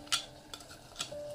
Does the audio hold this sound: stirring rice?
yes